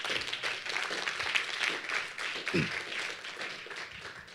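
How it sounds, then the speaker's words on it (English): Applause from a conference audience after a panel discussion on school water, sanitation and hygiene, a steady crowd clapping at moderate level throughout, with a brief low murmur of voice partway in. "Can we have a big round of applause for the whole panel"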